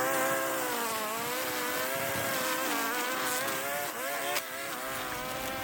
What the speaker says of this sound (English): I'm just using the string trimmer to bring down the height on the edges where the True Cut won't really reach